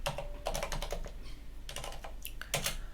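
Rapid clattering keystrokes on a computer keyboard as a command is typed into a Linux terminal, close and clear with a brief pause midway, no voices.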